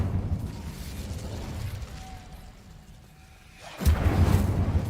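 The Incendio fire spell is cast in Hogwarts Legacy, a sudden whooshing burst of flame that flares up loudly after a quieter stretch and roars on to the end.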